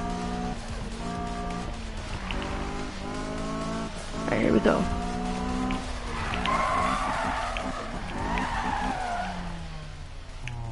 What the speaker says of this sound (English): I'll just show him when I'm drifting it.